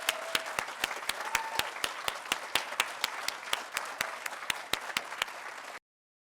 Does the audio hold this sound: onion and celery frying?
no